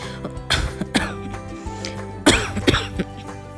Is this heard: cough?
yes